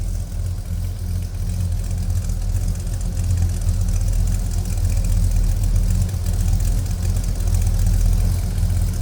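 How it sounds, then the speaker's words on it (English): A 1968 Chevrolet El Camino V8 with a full dual exhaust idles with a deep, steady rumble, low and continuous with a slight uneven throb, no talking over it. "Complete dual exhaust, and like I said, it does sound good."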